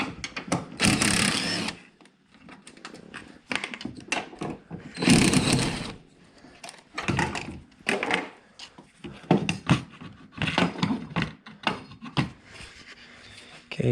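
Two 10mm bolts being worked loose from the accelerator pedal position sensor on a Honda or Acura, giving bursts of close metallic tool clatter and rattling in irregular spurts with short pauses between.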